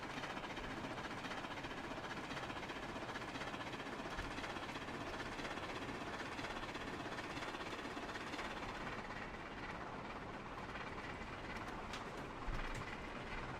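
A PRR T1 steam locomotive running at full throttle in Trainz Simulator 3 gives a continuous dense rumble and rolling clatter, steady and fairly loud throughout with no voices.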